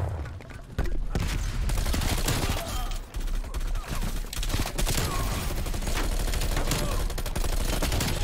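Handgun and other gunfire in Call of Duty: Black Ops Cold War, dense rapid shots crackling almost nonstop, loud and close, with a player's voice briefly over the action.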